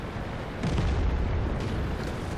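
A tank cannon firing in World of Tanks, one deep dull boom swelling into a long rumbling roar that hangs over a steady noisy background, with no talk.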